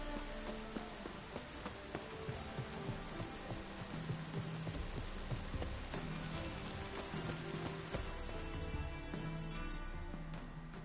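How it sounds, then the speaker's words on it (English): Rain pours down in The Witcher 3: The Wild Hunt, a dense, steady hiss of drops on surfaces that carries on without a break, with no voices over it. "And it's raining again."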